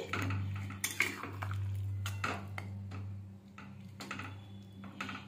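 Metal spoon clinking and scraping against a pot while korai chicken curry with a little added water is mixed, with irregular sharp taps over a steady low hum.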